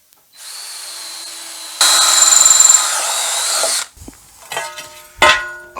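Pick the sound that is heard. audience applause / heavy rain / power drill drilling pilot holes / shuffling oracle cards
power drill drilling pilot holes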